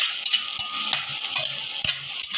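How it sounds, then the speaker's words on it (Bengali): Shrimp frying in a pan with onion and garlic, a steady close sizzle with a spatula stirring and scraping now and then, and no voices. "চিংড়ি মাছটা একটু হালকা লাল লাল ভাজা দেওয়ার পরে"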